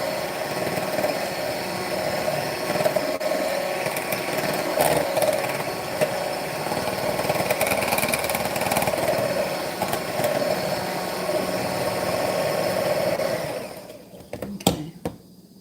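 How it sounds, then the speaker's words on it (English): An electric mixer whips egg whites with sugar for fudge pumpkin brownies, a steady, loud, whirring motor drone running unbroken for about fourteen seconds before cutting off, followed by a few light knocks. "You can see beating the egg whites with the sugar, how it gives it that lift."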